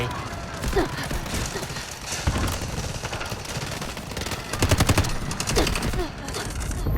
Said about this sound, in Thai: ปืนพกเกมนี้มันโคตรแรงเลย